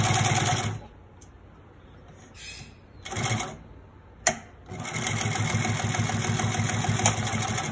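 A Consew 369RB-2 split needle bar, high post, double needle walking foot triple-feed sewing machine with 3/8 gauge stitches in loud, rapid mechanical bursts. The bursts break off into short pauses and then resume in a long continuous run, close up.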